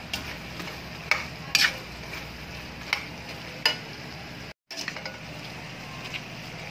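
Pork adobo with chili and spring onions is stirred in a pan, with soft sizzling under a few sharp scrapes and clinks of the utensil and a brief dropout midway; no talking.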